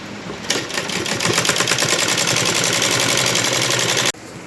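A sewing machine stitches the circular hem of a belt salwar, its rapid, even needle pulses running steady and close for about four seconds before stopping abruptly.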